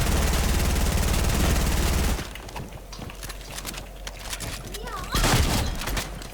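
Gunfire in Fortnite: about two seconds of dense, continuous rapid fire, then scattered single shots and a louder short burst, mixed with game effects and voices.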